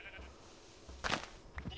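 A Minecraft sheep bleats quietly in the game, two short baa calls separated by a pause over a faint background hum.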